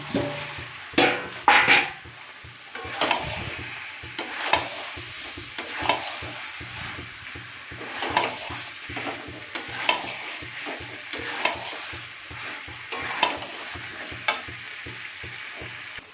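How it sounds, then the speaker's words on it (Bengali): Potatoes stir-fried in spiced oil for a Bengali kosha aloor dum, with a close, steady sizzle and repeated scraping strokes of a spatula against the pan at an uneven rhythm. "এইবার আলুগুলো দিয়ে ভালো করে কষাবো"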